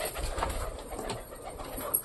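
A native domestic pigeon with clipped wings, kept in a cage, gives a short run of low, throaty coos close by over light background noise.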